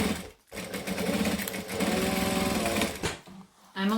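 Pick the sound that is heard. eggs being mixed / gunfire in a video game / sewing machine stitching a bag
sewing machine stitching a bag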